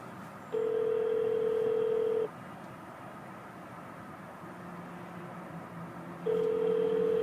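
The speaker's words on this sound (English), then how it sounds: "I'm going to make a test call with my cell phone" A cell phone placing a test call inside a vehicle gives a steady, loud electronic tone for about two seconds, falls away, and then sounds again near the end over a low cabin hum.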